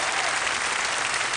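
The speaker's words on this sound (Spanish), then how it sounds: "Juan Antonio, un aplauso reconocido, un esfuerzo profesional." Studio audience applause on the Chilean television variety show Martes 13 in 1992, a full, even roar of clapping heard alone for a brief moment.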